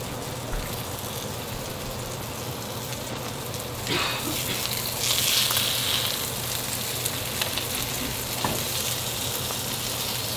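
An omelette with turkey and vegetables sizzles steadily in a frying pan, a continuous close hiss with a brief louder flare near the middle and an occasional utensil tap.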